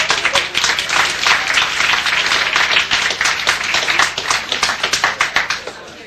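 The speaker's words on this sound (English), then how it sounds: "Yes, you can applaud!" Applause from an audience greeting a singer before a musical tribute, brisk, close clapping from many hands that thins out toward the end into individual distinct claps.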